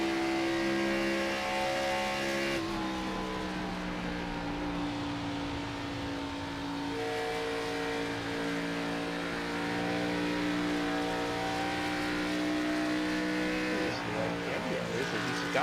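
Stock car engine droning steadily at Kansas Speedway in an online racing league sim, sustained whine with pitch shifts as the throttle is worked, loud and continuous throughout.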